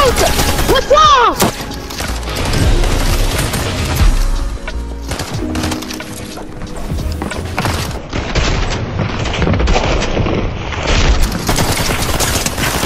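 Dense video-game gunfire from a console battle-royale cash cup crackles in rapid bursts and volleys, loud and close, with brief gaps between exchanges and a few explosive booms.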